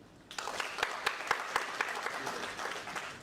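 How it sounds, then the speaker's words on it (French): A small crowd claps steadily for a few seconds, with sharp individual claps standing out in a moderately loud round of applause. "mérite des applaudissements."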